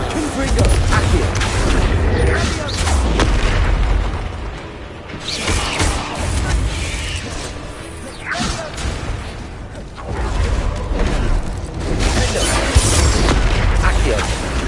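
Spell blasts from Hogwarts Legacy combat: a dense, loud run of booming impacts, whooshes and mechanical clatter crowding one another across the whole stretch, with a brief lull midway before the barrage picks up again.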